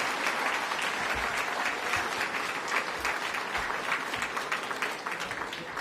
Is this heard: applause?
yes